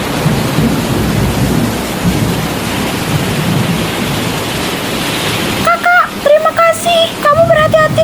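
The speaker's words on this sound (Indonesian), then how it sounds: "hujan badai di tengah laut dengan kondisi yang seperti ini." Heavy rain pours in a dense, steady roar during a thunderstorm at sea, with thunder rumbling low beneath it; for the last couple of seconds a choppy tonal sound rises over the storm.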